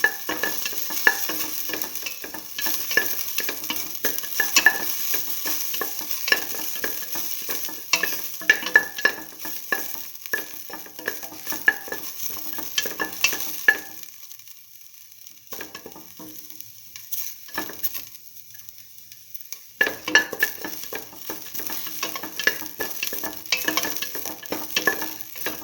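Salt and ginger sauté in a pan for a potato and split mung bean stew, a close, steady sizzle with frequent stirring scrapes that briefly quiets midway before resuming.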